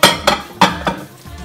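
A spoon stirs tomatoes, coriander, parsley and spices in a pot for Moroccan chicken, making about four rhythmic scraping strokes with light metallic clinks, close and clear.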